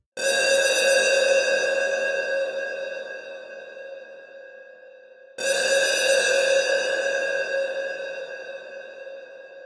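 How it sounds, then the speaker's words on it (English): A sustained synth-like tone rings out through the KLEVGR KLEVERB reverb plugin, its long modulated reverberant tail gently wavering in pitch, fades, then strikes again and decays once more. "the modulation will make the reverb tail sway in pitch up and down"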